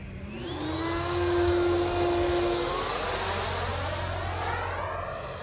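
A Freewing F-22 90mm RC jet flies past with a loud, steady ducted-fan whine that rises and shifts in pitch as it passes, with no talking.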